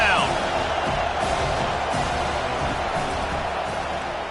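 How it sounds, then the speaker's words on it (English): A football stadium crowd roars on third down as the home fans rally behind their defense, a loud, steady wash of noise that holds throughout with only a slight fade near the end. "Decibels rising as the crowd gets behind this defense on third down."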